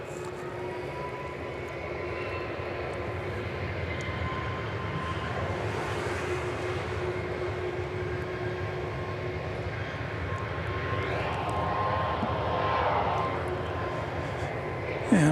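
An American Airlines jet, flight 963 to São Paulo, moves on the runway at DFW, a sustained engine drone with a steady whining tone that slowly swells louder toward the end, heard from a distance.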